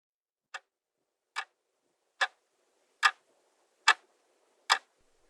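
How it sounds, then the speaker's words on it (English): Alarm clock ticking inside a crocodile, six sharp evenly spaced ticks about 0.8 seconds apart, clear and isolated against silence. "Tick-tock, tick-tock. Captain Hook hears the alarm clock."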